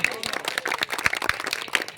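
Audience claps at a stage program, dense and close-up, with many separate sharp hand claps forming lively, uneven applause that keeps going the whole time.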